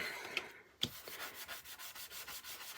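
Fine sandpaper rubs back and forth over a surface in steady, soft, raspy strokes, close and quiet, with no talking.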